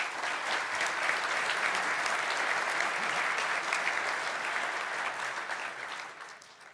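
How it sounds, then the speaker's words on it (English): An audience gives a panel a round of applause at a conference on estates and asset management, fairly distant, steady clapping that holds evenly and then fades away toward the end. "please thank me in a round of applause for our panel members"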